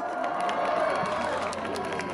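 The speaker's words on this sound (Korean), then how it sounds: "총장님에게 다시 한번 큰 박수 부탁드립니다." Audience at a university award ceremony in a hall gives steady applause and cheering, a continuous crowd roar of claps and voices that holds at an even level for the whole stretch.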